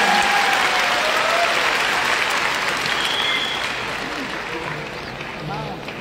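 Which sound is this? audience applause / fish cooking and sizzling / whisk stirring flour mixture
audience applause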